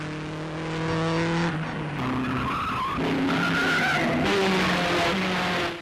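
Midget race cars skidding and roaring around a track, with screeching tires and engine whine, recorded on old film with a constant, grainy background hiss.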